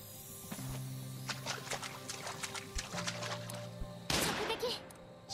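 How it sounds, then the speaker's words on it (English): A magic wand fired like a gun in the Atelier Yumia video game, a quick run of soft repeated shots over game music, then a louder burst near the end. "She's using a wand as a gun."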